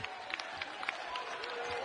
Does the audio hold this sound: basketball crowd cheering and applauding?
yes